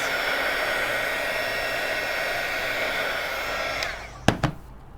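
Heat gun blowing a steady, loud whoosh of hot air over stamping foam for about four seconds, then switching off with a couple of sharp clicks and quieter handling.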